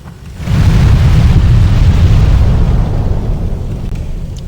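Fire-breathing enemy in Demon's Souls spewing flames, a loud sustained roaring rush that swells after a brief lead-in and holds steady for several seconds before easing slightly.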